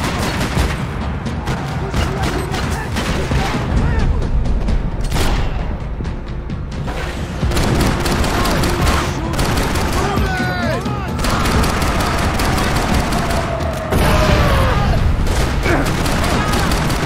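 Rapid gunfire from the video game Max Payne 3, loud and close, with dense bursts and single shots continuing throughout, under shouted voices and a swelling music bed.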